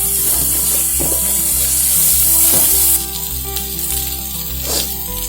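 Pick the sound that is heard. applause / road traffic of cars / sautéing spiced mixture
sautéing spiced mixture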